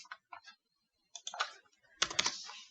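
A computer keyboard clicks in short bursts of quick keystrokes, with a few isolated taps and then a louder, denser flurry near the end, close and crisp in an otherwise quiet room.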